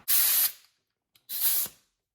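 Two loud bursts of compressed air hissing from an air hose as it is connected for a cylinder leak-down test, each lasting about half a second, close by, with a short pause between them.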